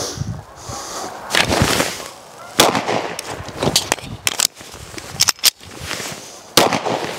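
Shadow Systems DR920 pistol shots fired during reload practice: loud, close, sharp cracks in quick uneven bursts, a few single shots and clustered strings, with brief pauses between.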